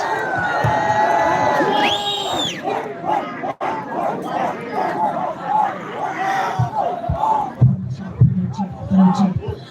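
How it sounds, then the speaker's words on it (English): A night concert crowd of Tangkhul music fans cheers and shouts loudly, with whoops and yells rising over a broad wash of clapping and chatter that carries on with no clear break. "with a huge round of applause"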